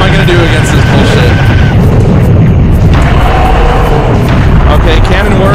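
Cannon fire and booming explosions in the video game Serious Sam: The First Encounter, a loud, dense, continuous barrage of blasts and battle noise with no letup.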